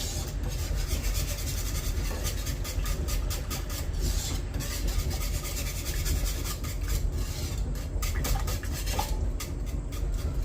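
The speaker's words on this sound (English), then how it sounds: "I'll stir this around" A spoon scraping and rubbing through a thick spinach and leek dauphinoise sauce in a pan, a continuous close rasping stir with faint clinks against the metal and no talk.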